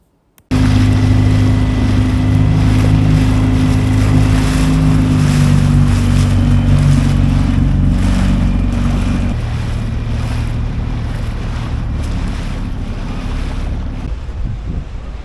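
A small dinghy outboard motor runs steadily at close range for the whole stretch, its droning hum shifting pitch partway through, mixed with water wash and wind buffeting the microphone as it heads ashore from an anchorage.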